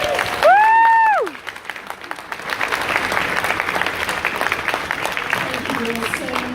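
A panel audience at a gaming convention bursts into sustained applause and cheering, a dense wash of clapping filling the room after a short whoop from a voice near the start.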